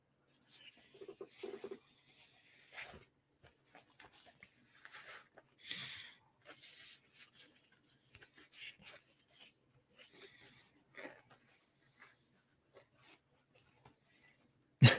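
Soft, scattered rubbing and flicking of tarot cards being shuffled close by, in irregular short bursts with quiet gaps, faint murmuring voice at times.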